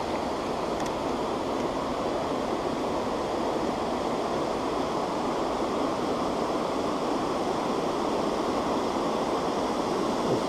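Waterfall on a river during spring spinning fishing, a loud, steady, close rushing roar of falling water that fills the whole scene without pause or talk.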